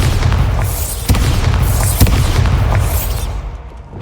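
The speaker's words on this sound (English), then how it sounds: "I'm about to put Bombarda on his face, bro. Bombarda!" The Bombarda blasting spell in the video game Hogwarts Legacy: a loud, booming explosion with several deep bursts in quick succession, then a rumbling tail that fades out over about four seconds.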